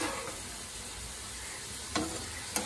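Food seasoned with salt and turmeric sizzles softly in a pan during home cooking, a faint, even hiss broken by two brief scraping stirs near the end.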